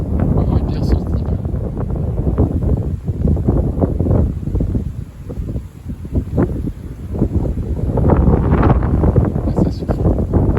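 Strong south wind on an evening in early March, gusting in loud, buffeting roars that batter the microphone, easing briefly midway before surging again.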